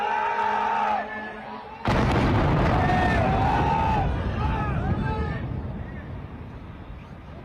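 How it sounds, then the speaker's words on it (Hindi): Explosions on Qeshm Island, Iran, begin with a sudden, heavy, broadband roar that rumbles on for several seconds, with distant shouts and voices mixed into the blast noise. "ये धमाकों की आवाज सुनिए आप, किस तरह से केशम द्वीप पर लगातार हमले हो रहे हैं।"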